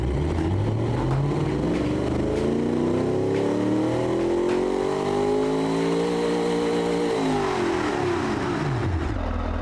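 A loud V8 muscle car engine revs steadily upward under full throttle during a dyno pull, pitch climbing through a long pull before easing off at the end.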